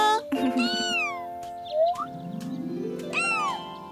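A cat meows several times in a row, rising and falling cries close by and fairly loud, with musical tones running underneath.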